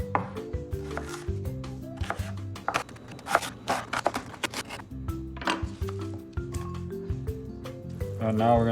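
A knife chops an onion on a cutting board with rapid, uneven close-up strikes in bursts, over a steady low background hum.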